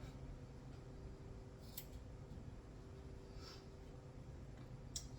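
Scissors snip through an oil lamp wick in a quiet room: a couple of faint, brief cuts spaced a few seconds apart over a low, steady background hush.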